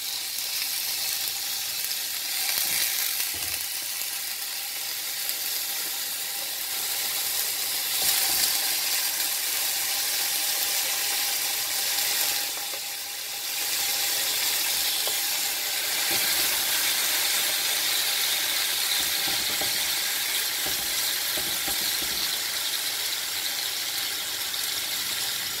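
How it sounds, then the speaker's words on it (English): Pork belly searing in a pan for a Filipino-style pork belly steak, a steady loud hiss and crackle of frying fat that runs continuously with slight swells. "We have to do that pan sear."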